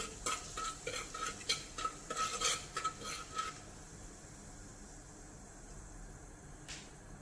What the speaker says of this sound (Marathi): हळद सगळी व्यवस्थित मिक्स करून घेऊ